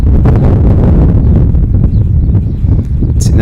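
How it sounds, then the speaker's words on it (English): Strong wind gusts across an open disc golf course, buffeting the microphone with a loud, continuous low rumble and no one speaking. "See, now you can start to hear that wind ripping."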